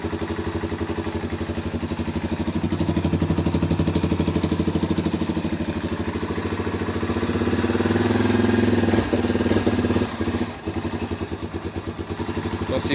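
A cold engine in a garage idles unevenly just after starting, a loud, steady rough chugging with a fast rhythmic pulse that swells slightly and clatters briefly near the end.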